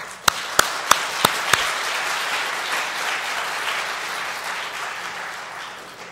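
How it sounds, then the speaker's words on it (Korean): A Korean church congregation bursts into applause for God at a revival meeting: a few sharp, loud claps ring out first, then merge into a sustained wash of crowd clapping that slowly fades toward the end. "우리 하나님 영광 박수."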